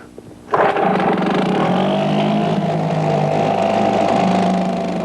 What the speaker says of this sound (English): Neptune Mighty Mite